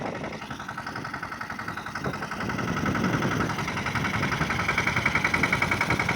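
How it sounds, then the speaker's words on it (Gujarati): A tractor engine idles and runs steadily in a farm field during sowing of groundnut and cotton, a loud continuous low rumble that builds slightly and pulses toward the end, with no voices. "યોગેશભાઈ આવી ગયા ટ્રેક્ટર લઈને"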